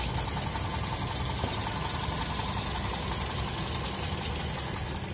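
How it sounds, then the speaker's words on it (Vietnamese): A 2010 Toyota Vios E idles smoothly, its engine giving a soft, even, close rumble with a faint steady ticking texture. "Máy khá là êm"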